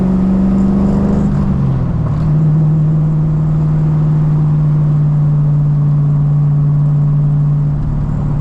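A cammed Infiniti G35 making 450 hp accelerates under load, its loud steady engine drone dropping in pitch at a gear change, heard from inside the car.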